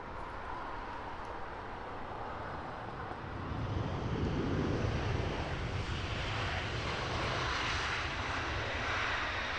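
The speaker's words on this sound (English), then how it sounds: "Eurowings on your screens now, in from Hamburg. She's an A320neo." An Airbus A320neo operated by Eurowings arrives from Hamburg at Heathrow Airport, its broad engine roar steady and growing a little louder partway through, with some wind noise and no talk.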